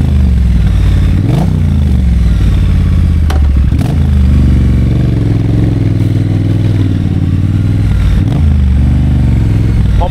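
Triumph T100 motorcycle fitted with a shop-made exhaust pipe, engine loud and close, idling with a deep rumble and blipped up several times in short throttle revs.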